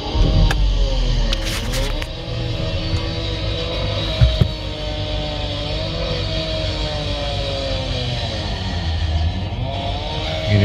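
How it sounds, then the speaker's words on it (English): An Audi A1 engine starts and runs steadily at close range, a low idle rumble with slight rises and falls in pitch, one brief sharp knock partway through. The car has an emissions fault. "Now let's see, let me start the car."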